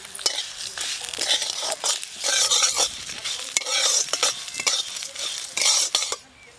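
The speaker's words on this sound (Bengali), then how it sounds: "মশলাগুলো সব ভালো করে ভেজে নিয়েছি," Whole spices fry in hot oil for a fish curry, a loud steady sizzle broken by repeated scraping stirs, bursts swelling and easing until the hiss cuts off near the end.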